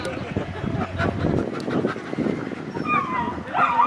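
Sled dogs bark and yelp repeatedly at close range, a noisy team chorus with high whining calls rising toward the end.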